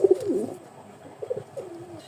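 Pigeons, a mix of males and females, give soft throaty coos close by, a few rolling calls spaced across a quiet moment with no voices.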